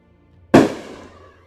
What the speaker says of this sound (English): That's the second time a set of fireworks like those, just a strip of firecrackers was like